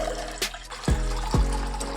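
Water is poured out for panakam, a jaggery and pepper summer drink, making a steady splashing rush close by with a few sharp knocks.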